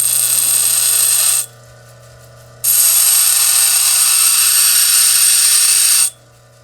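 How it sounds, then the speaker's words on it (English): A grinder carves jasper stone with a loud, steady high whine that cuts out briefly for about a second, then resumes just as strongly before stopping near the end. "This is the grinder."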